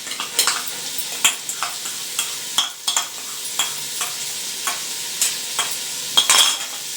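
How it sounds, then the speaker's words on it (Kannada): Carrots and beans frying in a pan, stirred with a utensil that scrapes and clacks at an irregular rhythm over a soft, steady sizzle, close and alone. "ಈಗ ಮಿಕ್ಸ್ ಮಾಡೋಣ ಚೆನ್ನಾಗಿ."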